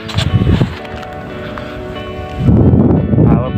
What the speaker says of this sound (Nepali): हावा बवाल चल्दैछ